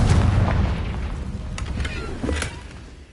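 A Confringo fire spell bursts in Hogwarts Legacy with a heavy, loud boom that rolls on and slowly fades, followed by a few faint crackles and knocks.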